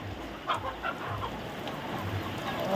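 Native country hens on a small farm in light rain give a few soft, faint clucks. They sit low under a steady wash of background noise.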